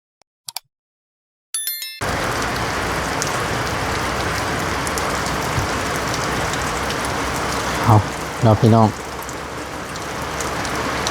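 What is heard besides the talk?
rain falling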